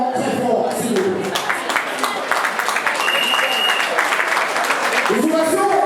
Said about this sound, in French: On va les rejoindre un petit peu avec nos applaudissements.